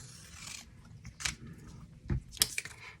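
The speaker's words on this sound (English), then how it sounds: "We're just going to cut it in half." Scissors cutting a paper card in half during card-making, a few crisp snips at close range, with soft rustling of paper between cuts and no talking.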